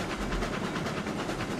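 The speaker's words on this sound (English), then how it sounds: "Little classic train running." A classic train running in the game RailRoads Online, heard from the cab with the window open: a steady rumbling engine with rhythmic clickety-clack pulses, loud and close.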